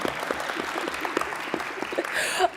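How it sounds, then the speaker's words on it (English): Applause from the audience at the closing ceremonies of a ceramics arts conference, a steady mid-level wash of clapping with a few sharper claps and some voices mixed in. "We can clap if we want to along the way."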